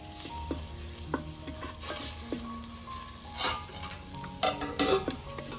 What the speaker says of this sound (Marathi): हे मसाले आता मी असे परतून घेणार आहे, शिजवून घेते, तेलावर असे परतून घ्यायचे